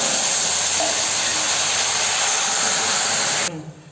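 Boiling water pours onto ghee-roasted vermicelli in a pan for semiya kesari, giving a loud, close, continuous hiss of steam and sizzle that cuts off sharply near the end.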